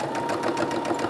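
A sewing machine stitches fabric for a Christmas gift bag, running in a brief, steady, close whirring buzz with no talk.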